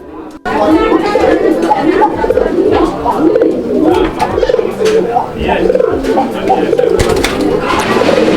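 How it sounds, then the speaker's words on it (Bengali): Pigeons coo, a pair of racer pigeons of an uncommon colour, in a dense, steady murmur of overlapping calls with background chatter throughout. "তো দর্শক আপনারা ডাকটা কিন্তু দেখছেন আমরা ডাকটা দেখাই দিলাম"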